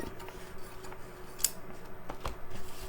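Scissors snip through folded canvas fabric for a craft bag, a few crisp, close cuts with soft rustling of the material between them.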